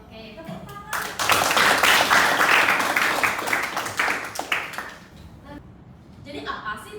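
Students clap in a classroom during a teaching session on office applications. A burst of applause rises sharply, holds steady for a few seconds, then fades out, with a speaking voice before and after.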